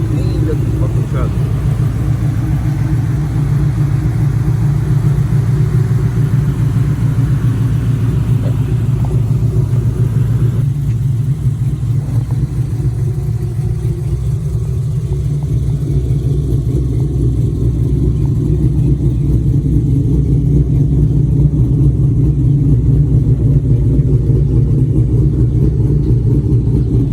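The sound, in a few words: cammed 2016 Chevrolet Silverado Z71 engine revving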